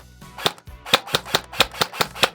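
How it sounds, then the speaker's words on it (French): Airsoft replica gun firing a rapid series of about nine sharp, close cracks in a steady rhythm, following a malfunction and a lost magazine, with no talk over the shots. "Ah, elle tire, hein."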